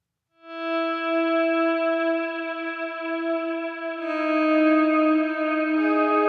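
A clean, sustained high guitar tone rings alone, swelling slightly brighter partway through as a second note joins.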